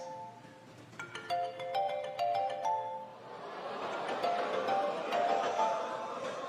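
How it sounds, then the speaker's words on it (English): A mobile phone rings in a comedy show audience, a melodic electronic ringtone of repeated chiming notes, then crowd noise and murmuring swell beneath further ringtone notes. "Go and answer your phone"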